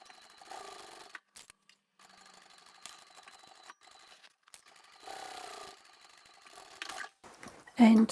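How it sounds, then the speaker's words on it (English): A sewing machine triple-stitches the joined sides of a divided fabric craft basket, running in several short mechanical bursts separated by pauses, close and fairly quiet, with a brief louder thump at the end. "Where the sides meet, I'll reinforce that by triple stitching."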